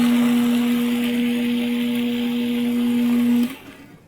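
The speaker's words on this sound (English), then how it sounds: "Adding the parsley, the cilantro, and then we grind it a little more to make room for the rest of the ingredients" A food processor runs steadily on parsley and cilantro for falafel, a loud continuous motor whine with a grinding rasp that cuts off sharply near the end, no talking.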